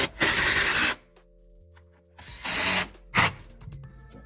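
Ratchet tool tightening the battery hold-down in a Volkswagen GTI during a clutch upgrade, heard as three close, loud bursts of rapid clicking with short quiet gaps between them.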